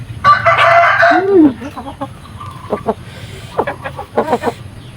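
A rooster crows loudly and close by at the start, followed by scattered clucks and other farmyard chatter from nearby fowl.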